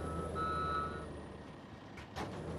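A truck's reversing alarm beeps steadily at moderate distance alongside a low idling engine, followed by a couple of sharp hissing air-brake bursts toward the end.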